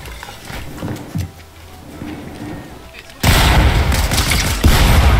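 Quiet video game audio with a few faint pops, then sudden loud rapid gunfire from a gold pistol that continues with dense, booming shots to the end.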